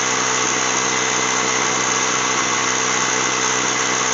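A Ryobi ONE+ 18V cordless mini compressor runs nonstop while inflating a slowly leaking car tire, a loud, even motor drone with a buzzing piston vibration and no pauses.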